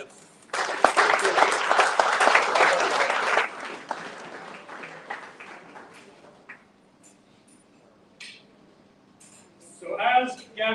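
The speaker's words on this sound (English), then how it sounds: "Please join me in another huge round of applause for our entire coaching staff" Round of applause for an ice hockey team's coaching staff at a national team blazer ceremony, a dense burst of clapping from a gathered audience lasting a few seconds, then fading into scattered claps and a voice.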